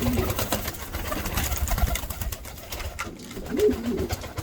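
Pigeons cooing inside a coop, several soft low throaty coos close by over a busy rustle of wings and shuffling birds.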